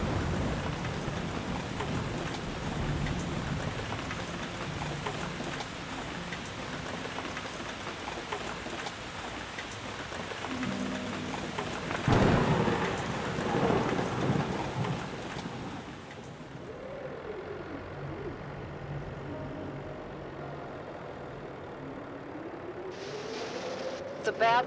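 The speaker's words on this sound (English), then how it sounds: "Bad weather crossing Montana is amassing all the characteristics of an atypical storm." A steady downpour with a rumble of thunder in the video game The Case of Rachel Foster, set during a storm crossing Montana; rain hisses throughout, a louder crash comes midway, then the rain softens.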